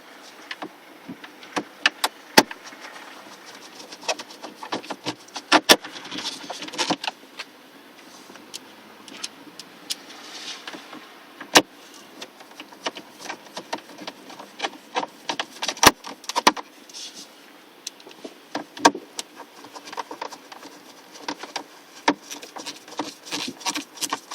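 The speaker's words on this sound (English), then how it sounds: "We now need to put the 3 screws in along the bottom here again." Screws go into a dash panel of a 2002-2008 Ford Fiesta, sounding as scattered close clicks, small taps and plastic knocks over a quiet background, irregular and without talk.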